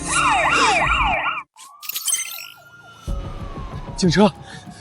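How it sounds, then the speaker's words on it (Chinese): A police car siren wails past in an animated drama, a loud yelping pattern that shifts into a long falling tone as it passes, mixed with other scene sound effects. "警车没停，是路过的。"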